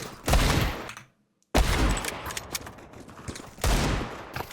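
Loud gunshots from a first-person shooter video game crack out in three separate bursts, with a short silent gap after the first, close and punchy with some rattling follow-up shots.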